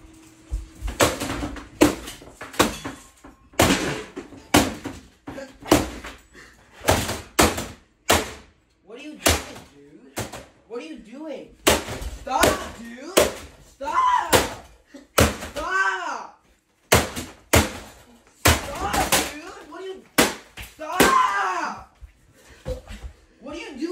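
A computer monitor being smashed, a long run of sharp loud cracks, thuds and bangs in uneven bursts with short gaps, mixed with yelling and talking throughout.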